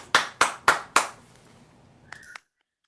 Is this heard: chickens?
no